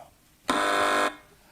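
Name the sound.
quiz show buzzer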